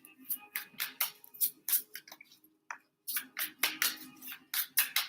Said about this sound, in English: Just shuffle these again.